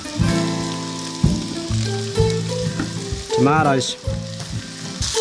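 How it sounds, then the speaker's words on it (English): Onions frying in a wok with a little fat, a loud, close, steady sizzle with stirring, under a voice and a tonal music-like hum. "onions in the wok with a bit of fat"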